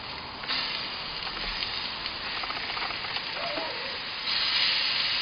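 Maple horseradish marinated moose steaks sear on a barbecue grill with a steady, close hiss and crackle of juices. The sizzle holds constant for about five seconds and swells a little louder near the end.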